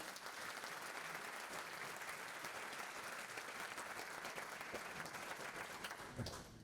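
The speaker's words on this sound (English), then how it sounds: "A round of applause." Audience applause at a Yom HaShoah commemoration, steady, even clapping from a sizeable crowd sustained throughout, heard at a fair distance in a hall.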